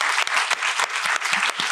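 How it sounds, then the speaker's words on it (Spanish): Audience applause for a podcast guest, a steady burst of clapping from a live crowd, dense and fairly loud throughout without speech. "Un aplauso a Daniel Cárdenas, doctor Daniel Cárdenas."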